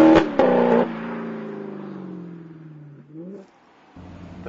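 Alfa Romeo 8C with a 4.7 litre engine, a sharp burst of loud revving with crackles at the start, then a long falling engine note that fades, a brief rev near the end before quieting.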